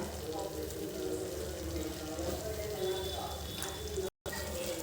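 Water pours steadily into a pan of chicken curry (chicken iguru), a continuous rushing wash that cuts out briefly near the end before resuming.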